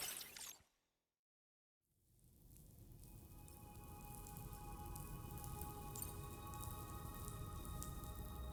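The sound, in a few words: raindrops falling, from the video game Death Stranding 2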